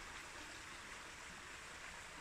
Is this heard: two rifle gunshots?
no